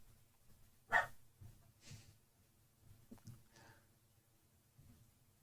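A small fluffy dog barks a couple of times, one sharp bark standing out near the start followed by fainter, softer yips against a quiet indoor background.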